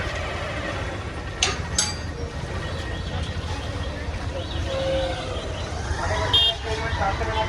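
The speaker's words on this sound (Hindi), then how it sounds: "गाड़ी आ गया।" At 2 a.m., a car arrives through a waiting crowd of devotees, giving a few short horn toots over a low engine rumble while many people talk throughout.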